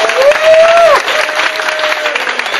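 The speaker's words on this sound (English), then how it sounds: "Give Aaron a round of applause, please." Audience applause after a talk, a dense burst of clapping from a crowd, loud and close, with a brief whistle-like tone near the start fading into steady clapping.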